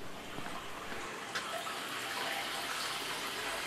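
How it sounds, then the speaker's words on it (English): Water pumped out of a large cylinder aquarium tank, a steady broad rushing gush that stays even and moderately loud throughout with no talking. "we're pumping water out of the tank"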